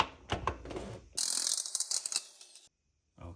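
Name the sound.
impact gun removing crank pulley with 19mm weighted socket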